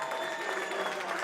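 A crowd at a high school football game, Free State at Manhattan, applauding and cheering as Manhattan hangs on to win; a steady, dense wash of clapping and crowd noise at moderate distance, continuous throughout.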